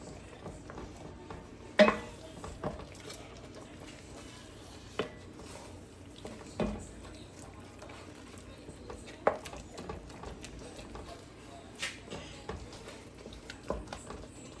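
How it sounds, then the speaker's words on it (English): Intermittent scraping and clinking of a utensil against a pan while deglazing it with chicken broth for potato soup, irregular strokes over a quiet simmering background, no talking. "So we're just kind of scraping the bottom up, we're deglazing this pan with this chicken broth."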